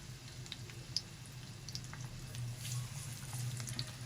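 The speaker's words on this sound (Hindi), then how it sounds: "नाज़रीन इसको अब हम फ्राई करने के लिए डाल देंगे।" Chicken wings frying in hot oil, a faint, steady bubbling hiss with scattered small pops and crackles, heard close and alone.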